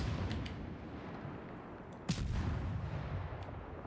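Naval gunfire from warships in World of Warships Legends: a dull rolling rumble of distant shelling with one sharp, loud blast just past halfway, no voices.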